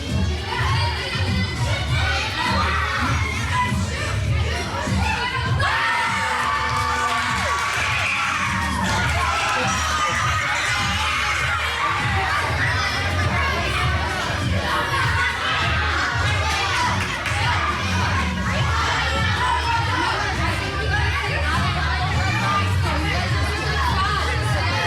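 Children scream and shout loudly and continuously in an indoor gym during a ball game, a dense, echoing crowd roar with cheering bursts throughout.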